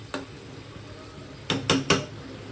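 Metal spoon scraping and clanking in a pan of onion and potato curry being stirred and fried, one sharp clink early then three quick knocks in a row over a low background hiss.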